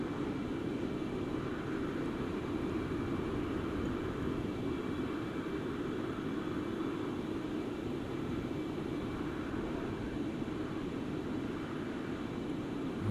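A Concorde airliner in Microsoft Flight Simulator gives off a steady, dense engine roar with a broad rushing hiss that holds at an even level throughout, with no voices.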